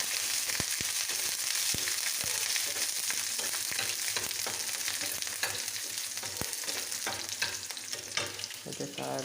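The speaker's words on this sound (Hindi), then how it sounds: "किछि जीरा पके दबा, ता सहित काटी रखिथिबा किछि अदा रसुण पके दबा आउ किछि कंचा लंका ताको भलो भाबरे मिक्स कर दबा" Cumin seeds, chopped ginger, garlic and green chilli sizzle loudly in a hot pan with steady crackling and occasional stirring scrapes, no talk over it.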